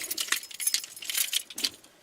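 A new cut key jangles near the mic in quick metallic bursts while it is worked at a lock that will no longer turn, with brief gaps between the rattles.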